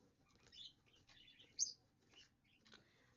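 Pet bird Sky gives a few soft, scattered chirps and tweets indoors, faint and close, with one sharper peep standing out amid quiet background rustle.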